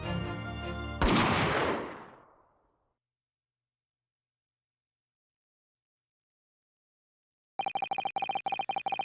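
A gunshot in The Great Ace Attorney 2 game lands as a sharp blast that rings out and fades over about a second, followed by silence and then a burst of electronic ringing tones.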